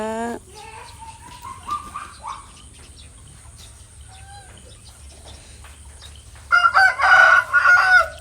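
A rooster crows nearby with a long rising call, then gives a second louder, harsher crow near the end, over faint background noise.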